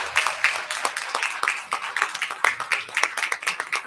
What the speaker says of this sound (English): Let's give them all a round of applause, and their parents, and their parents.